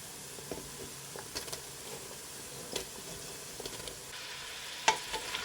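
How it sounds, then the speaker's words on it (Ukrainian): Faint, steady sizzling of onion frying in a pan with carrots, with a few soft clicks and stirring scrapes over a low background hiss. "перемішуємо і обжарюємо ще десь 10 хвилин."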